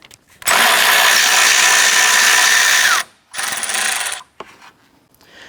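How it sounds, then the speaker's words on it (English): A 10mm socket on a ratchet or power driver spins out the AC condenser bracket bolt on a 2004-2008 Acura TL: one long loud whirring run, a shorter second burst, then a few faint clicks. "Use a 10mm socket and remove this bolt here, holding the bracket to the AC condenser."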